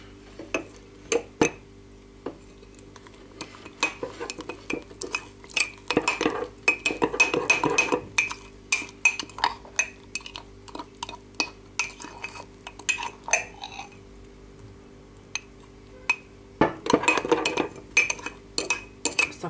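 A spoon stirs a mixture in a dish, giving repeated clinking and scraping taps of metal on the bowl in irregular bursts, close and fairly loud, with short pauses between rounds of stirring.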